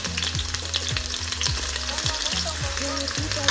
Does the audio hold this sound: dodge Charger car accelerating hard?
no